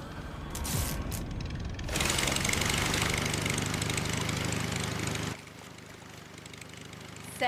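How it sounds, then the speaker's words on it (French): A motor rumbles steadily, growing louder and rougher for several seconds, then drops back to a quieter idle. "Le bruit du moteur va les attirer"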